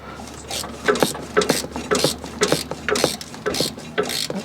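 A bracket bolt on an LT1000 lawn tractor being tightened with a ratchet: a rapid run of close mechanical clicks and gritty metal scrapes in uneven bursts, no speech.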